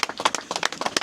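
A small crowd claps for the second-place woman at the Montane Winter Spine Race podium, a short, close run of uneven handclaps with no voices over it.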